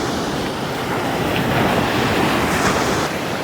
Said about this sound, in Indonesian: ditemani ombak yang bergemuruh